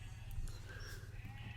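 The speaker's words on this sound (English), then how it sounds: "like the sound of the sheep in the background" Sheep on a neighbouring farm bleat faintly in the distance during round-up, their wavering calls far off under steady low background rumble.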